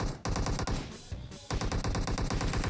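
Loud sustained automatic gunfire in PUBG Mobile comes in fast rhythmic bursts, stopping briefly twice before the rapid shots resume, with no talking over it.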